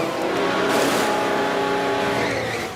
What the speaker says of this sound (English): And that's Webber into the pits, and Rosberg as well